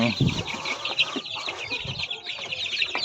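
A flock of native chickens clucking and chattering continuously, close by, with overlapping calls throughout and a faint voice in the background.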